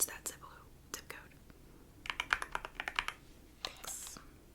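Soft typing on a computer keyboard in a quiet ASMR travel-planning scene, with close, crisp bursts of key clicks in short runs and whispered speech between them.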